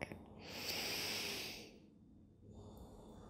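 One slow, audible inhale during a yoga flow: a soft, close breath that swells for about a second and a half and then fades into quiet room tone.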